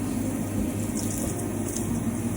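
Tap water runs steadily while hair is rinsed during a shampoo wash, a continuous close gushing flow that splashes without pause and has no voices.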